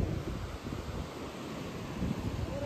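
Wind gusts buffet an outdoor microphone in a steady, rumbling roar that swells slightly near the start and again toward the end, with no voices present.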